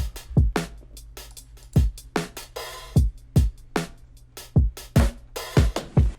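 A soulful hip-hop drum pattern loops with deep kick thumps, sharp snare cracks and busy hi-hats, including open hats, in a steady bouncing groove, loud and alone with no talking.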